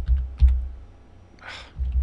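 A few scattered clicks on a computer keyboard during typing, soft and close, with a brief hiss of a breath midway and no talk.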